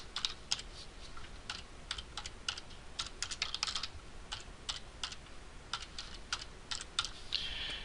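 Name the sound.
typing a text heading on a computer keyboard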